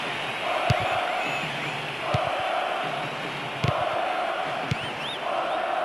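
Football stadium crowd in PES 2014 reacting to a yellow card: a sustained roar of chanting and jeering, with periodic sharp thumps and a few rising whistles over the dense noise.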